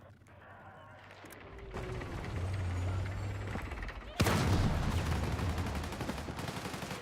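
Video game gunfire: faint scattered shots over a low rumble, then a sudden loud burst of dense, rapid fire that keeps crackling to the end.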